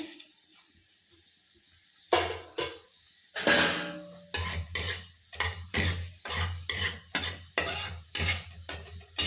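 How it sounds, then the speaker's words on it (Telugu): Spices for tempering hit hot ghee in a pan with a quick sizzle, followed by a run of rhythmic metal stirring and scraping strokes, close and regular. "నెయ్యి మరిగింది కదా, పోపులు వేసేద్దాం"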